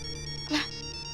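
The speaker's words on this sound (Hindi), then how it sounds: "किसका फोन है?" A phone ringtone sounds once in a short, faint chirp over a steady tonal background.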